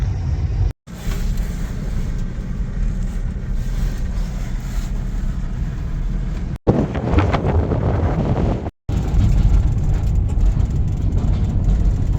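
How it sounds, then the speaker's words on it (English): Strong, steady wind of about 60 miles per hour roars and buffets the microphone throughout, a constant heavy rumble with brief dropouts; no talking. "60 mile an hour winds out here, and it's just miserable."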